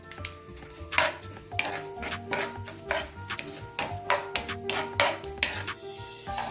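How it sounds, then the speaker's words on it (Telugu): Mustard seeds, cumin and sesame seeds frying in hot oil for an Andhra-style ridge gourd tomato chutney, with close, steady sizzling, crackling pops and repeated scrapes of a spoon stirring the pan. "ఆవాలు, జీలకర్ర, నువ్వులు కూడా వేసి ఫ్రై చేసుకుందాం"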